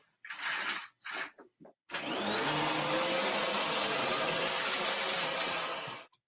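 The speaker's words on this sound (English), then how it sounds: "I gotta vacuum up this glitter mess real quick." A household vacuum cleaner runs steadily, loud and close, after a few brief bumps and clatters, sucking up spilled glitter from a floor with a sustained whine for several seconds.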